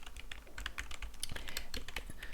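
Rapid typing on a smooth-feeling computer keyboard with customizable chroma-lit keys in a quiet ASMR setting, with dense, close, crisp key clicks and clacks tapping steadily throughout and no talking.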